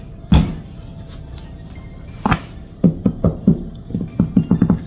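Two firm thumps, then a run of quick hollow knocks tapping on a loaf of bread, close and fairly quiet.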